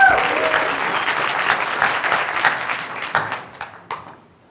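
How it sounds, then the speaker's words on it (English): An audience at a tech talk on Python smart contracts bursts into loud applause, dense clapping that thins into a few scattered claps before fading out. "Big round of applause again."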